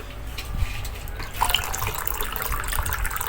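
Water running from a tap, filling for a bath, a steady broadband rush with a few brief louder splashes, close and continuous throughout.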